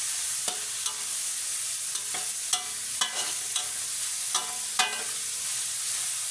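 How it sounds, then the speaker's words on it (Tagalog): Beef for black pepper beef frying in a pan, a steady broadband sizzle with scattered sharp clicks and scrapes of stirring, moderately loud and close, no talking. "Yung beef niya guys ay pinirito ko na."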